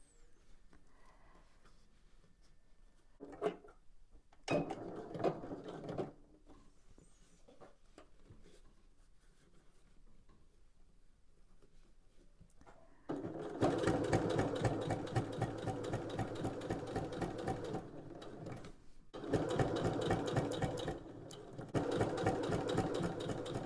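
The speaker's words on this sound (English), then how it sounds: "I'm sewing nice and close to the edge of this." A sewing machine stitches close to the edge of a drawstring cosmetics bag. Early on come a few short bursts, then long steady runs of rapid, even mechanical whirring and clatter up close, with brief pauses between runs.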